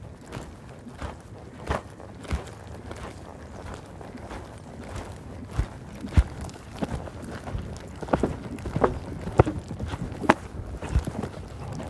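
Young horse cantering through a jumping grid, with a steady run of rhythmic hoofbeats on the ground, some footfalls sharper and louder than others, at moderate distance.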